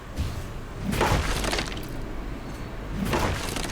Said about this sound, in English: Smashing the barrels for fun and profit.